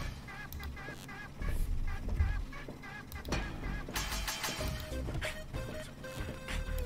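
An ugly bird in the Deponia video game squawks and honks in harsh bursts over game music and crashing effects, fairly loud and close.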